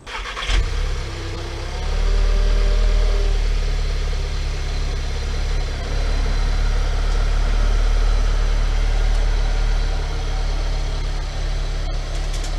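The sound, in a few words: car engine running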